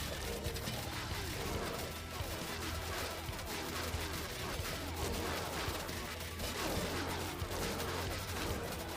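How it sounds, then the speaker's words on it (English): Dense, continuous rumbling blasts and crackling bursts pound together, rapid explosions and gunfire from the game Be My Horde, loud and unbroken throughout. "Look at those explosions."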